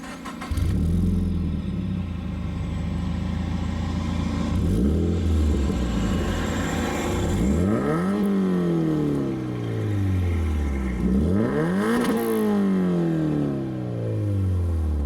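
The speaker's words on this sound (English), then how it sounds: "It's their V2 single exit catback exhaust." A Subaru BRZ with a single-exit catback exhaust revs loudly several times, each rev rising sharply in pitch and falling back to a deep, rumbling idle, close up with no talking.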